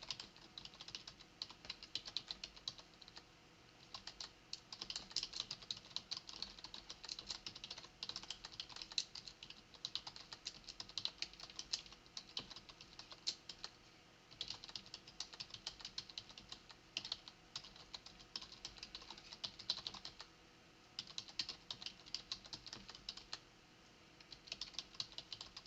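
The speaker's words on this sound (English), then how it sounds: "I'm just typing it in just to illustrate the point" Rapid, continuous typing on a computer keyboard, close and moderately quiet, with a brisk irregular patter of key clicks and no speech.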